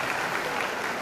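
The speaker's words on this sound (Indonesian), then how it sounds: "Tepuk tangan dong buat kita semua." Students from three schools applaud at a campus outing event at Institut Teknologi Bandung, a brief, dense wash of clapping heard at moderate level.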